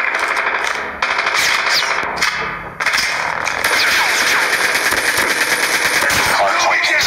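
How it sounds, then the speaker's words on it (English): Automated sentry gun in a Call of Duty match firing sustained rapid bursts, loud and dense, with brief gaps between volleys amid game effects. "Sentry gun deployed."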